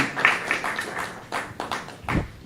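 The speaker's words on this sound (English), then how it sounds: "Dr. Oliver Mseka, please come forward as we clap hands for him" Hands clapping for a speaker at a Consumer Rights Day event in a hotel venue, heard as a short scatter of uneven claps, fairly sparse and close.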